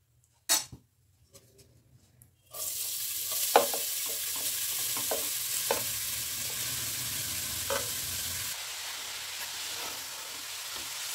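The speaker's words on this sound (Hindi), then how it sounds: "दो मिनट घी में फ्राई कर लूँ" Grated carrots drop into melted ghee for carrot halwa: a few clinks, then a sudden loud, steady sizzle with occasional stirring scrapes and no talking.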